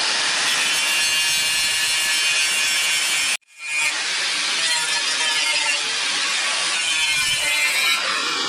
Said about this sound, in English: we're going to grind into the crack and also take the powder coating off